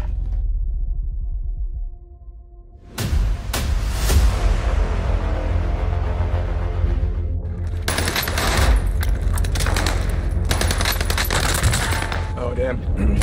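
Loud automatic gunfire bursts crackle in Call of Duty on Rebirth Island, sustained volleys following a quieter opening, with players talking over the action.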